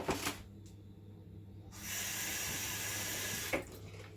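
A kitchen tap runs steadily for about two seconds while hands are washed during Afghan fried cookie dough preparation, a broadband water rush starting and stopping abruptly, close by with no talk.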